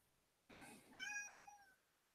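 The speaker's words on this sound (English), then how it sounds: "Sorry for that, cat distraction." A house cat gives a single drawn-out, wavering meow lasting just over a second. It is fairly faint, comes from a quiet room, and has no talk over it.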